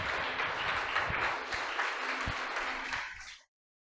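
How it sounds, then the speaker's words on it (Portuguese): A church congregation at a Baptist service breaks into dense, sustained applause that holds steady for about three seconds before cutting off abruptly, with faint low thumps underneath. "Dá uma salva de palmas para Jesus."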